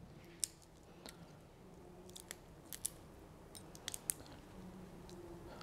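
Cooked crayfish peeled by hand at room temperature, shells pressed at each end and pulled from the flesh, giving sparse, quiet cracks, snaps and crunchy clicks close up, with no voices.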